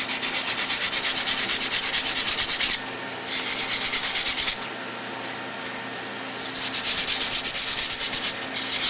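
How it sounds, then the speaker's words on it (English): Emery cloth rubbed briskly over dirty clutch friction linings from a driveshaft friction clutch, a close, steady scratchy sanding in three long bursts separated by brief quieter pauses. "you can attempt to clean them with a little bit of emery cloth"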